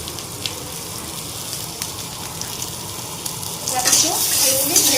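Boiled potatoes frying in hot oil with fennel seeds, salt and turmeric, a soft steady sizzle that swells louder and more crackly toward the end.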